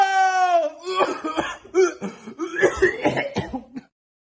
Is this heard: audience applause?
no